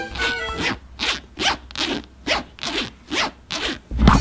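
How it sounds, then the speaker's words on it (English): A repaired zipper is zipped back and forth about eight times in a steady rhythm, each pass a close, loud, raspy burst with short gaps between. "We have to do the zip test."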